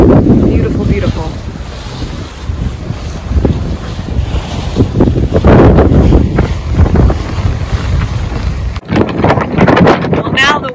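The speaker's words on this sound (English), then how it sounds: "now the wind has really picked up and it's cooled way down" Strong wind buffets a sailboat underway near Greece, gusting loud and rough against the microphone with wave wash beneath, while people talk over it.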